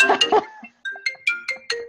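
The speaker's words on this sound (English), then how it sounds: "Oh, my phone is ringing." A phone ringtone plays a short melodic pattern of bright repeated electronic tones, clear and close after a brief moment of talk.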